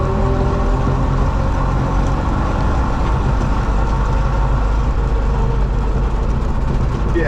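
A Lambro three-wheeler drives in third gear with a loud, steady engine drone and rumble held close and constant throughout.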